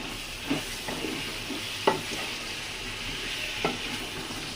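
Steady, moderate sizzling of chicken frying in a pan, with a few soft scraping stirs at irregular intervals.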